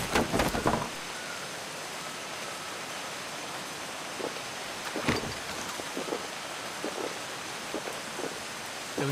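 Steady rain falls in the video game Atlas as a constant close hiss, with a few faint clicks and taps rising over the wash.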